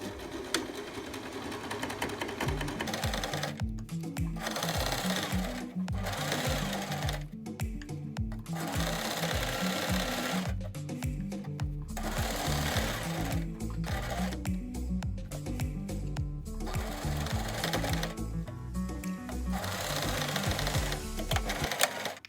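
Sewing machine stitching around a fabric basket, a close, steady rhythmic whirring broken by several short pauses across the stretch, with no talking.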